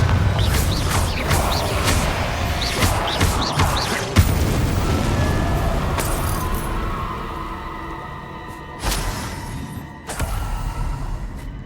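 Bombarda explosion spells in Hogwarts Legacy hit in sharp booming blasts amid fighting noise, with a burst of rapid crackles and a few strong impacts scattered through, and short quiet gaps between the later bangs.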